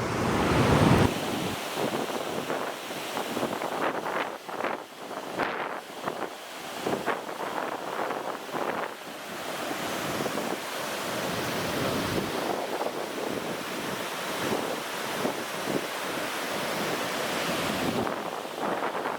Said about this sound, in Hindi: पोरबाई डैम रे ए पानी रे जाउची भाई मस्त लागुची